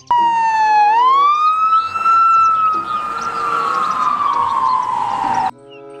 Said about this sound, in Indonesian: Ada mobil polisi patrol teman-teman.